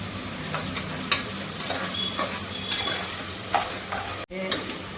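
Steady sizzling and frying of green chillies in a pan, with occasional stirring scrapes and clicks, close and continuous, no voices.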